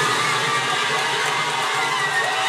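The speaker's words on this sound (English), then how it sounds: "There was a parade of cars with horns honking and fans cheering" San Francisco Giants fans celebrate in the city streets after a World Series win, a steady wash of crowd cheering and distant shouting that stays even and continuous throughout.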